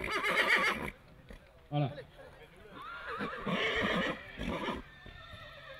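A horse whinnies loudly at a sale presentation ring while hooves clip-clop on grass, with someone speaking French over the sounds.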